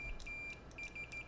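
A multimeter emits short, thin continuity beeps while its probes touch points on an iPad Pro logic board around the power management chip, several quick bursts at an uneven rhythm over a quiet background hum.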